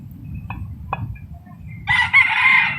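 A young rooster of about seven months, one of several red brothers, gives a loud, clear crow near the end after a couple of short clucks over steady low farmyard background noise.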